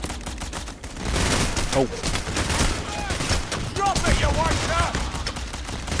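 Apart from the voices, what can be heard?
gunfire in video game robbery mission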